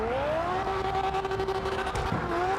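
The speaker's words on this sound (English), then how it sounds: "The first ever slide style run in a Lamborghini." Lamborghini dressed up like the Joker making a slide-style run at a drift event, a loud sustained engine howl with rising and falling pitch and tire noise throughout.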